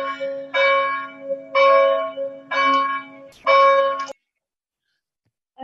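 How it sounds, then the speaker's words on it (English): Church bells ringing behind a speaker, four long resonant tolls in a steady rhythm, each with a sustained humming tone, fairly loud and close, followed by sudden silence; no talk over them. "I think there's bells behind me, so you may not be able to hear me"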